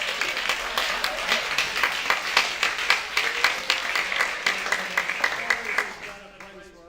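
An audience at a closing ceremony stands and applauds, a dense, steady burst of clapping with sharp individual claps throughout, fading out near the end.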